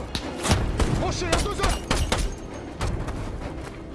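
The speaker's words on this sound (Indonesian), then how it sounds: "aksi tembak-tembakan" A rebel sniper and soldiers exchange gunfire in a firefight, with a rapid string of sharp, loud shots and booms cracking irregularly across the span.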